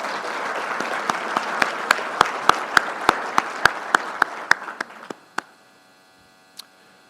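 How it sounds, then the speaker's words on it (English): Scattered audience members clap at a village State of the Village event, a short run of sharp, evenly spaced claps that thins out and stops, over a faint electrical hum. "Let's have a round of applause for the EDC board."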